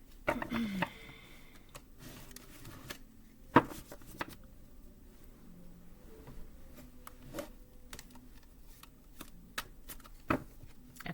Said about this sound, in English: I feel like that was like a really weak shuffle.